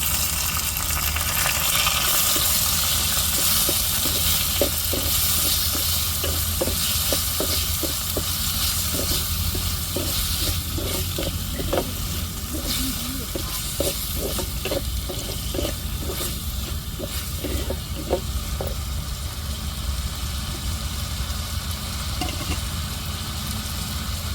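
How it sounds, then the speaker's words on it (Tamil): Onions, shallots, tomato, garlic and chilli sautéing together in a pan for a mushroom curry, a continuous broad sizzle with a run of quick scraping stirs in the middle, close and steady, no voices. "இப்போ வெங்காயம் சின்ன வெங்காயம் தக்காளி பூண்டு மிளகாய் எல்லாத்தையும் வதக்கிடுவோம் ஒன்றா சேர்த்து"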